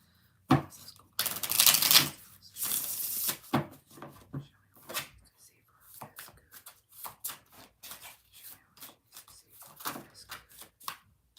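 Tarot cards are riffled and shuffled up close, a long riffle followed by a run of quick, irregular tapping and slapping as the deck is handled.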